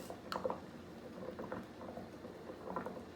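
Gravy gently simmering in a pan after cube steaks, a quiet continuous bubbling with small irregular pops and faint liquid patter, heard close and low without talk.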